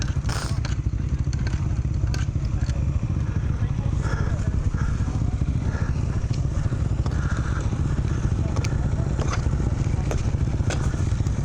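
A Beta 350RR dirt bike at a fundraising trail ride runs through water, its engine a continuous loud rumble mixed with clattering and splashing throughout, with wind buffeting the microphone.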